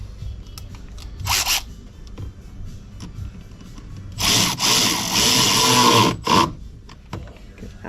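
A power tool tightens a clamp in the engine bay of a 2018 Chevy Silverado with a 5.3L engine, in two short whirring bursts followed by a longer, louder run of about two seconds, close by.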